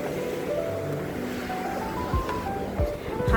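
Sea waves wash against the Hòn Chồng rock formation on the coast, a steady low surf rumble with wind noise at the microphone and a few surges near the end.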